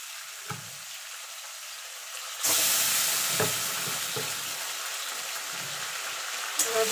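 Colocasia leaves hit hot oil in a pan and are stirred, a sudden loud sizzle bursting up midway and settling into steady frying with scraping stirs.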